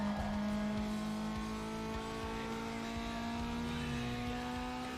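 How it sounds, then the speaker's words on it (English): Subaru boxer engine in Need for Speed Underground 2, a steady low engine drone with tonal harmonics rising slowly as the car accelerates, loud and continuous with no talk. "Subaru's boxer sound."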